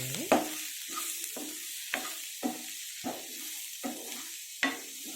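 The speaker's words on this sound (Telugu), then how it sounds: "మీడియం ఫ్లేమ్లో పెట్టుకొని బాగా మగ్గించుకోవాలి" Onions and tomatoes fry in a pan on a medium flame. A soft sizzle runs under six or seven clear, evenly spaced stirring scrapes, heard close and fairly quiet, with no one talking.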